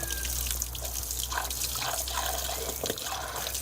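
A foot splashes and stirs in water, giving soft irregular sloshes and drips over a low steady hum, fairly close and moderately quiet, with no voices.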